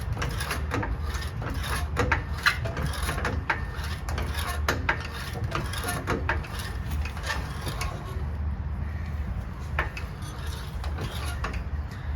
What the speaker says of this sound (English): Okay, I'm gonna start jacking it.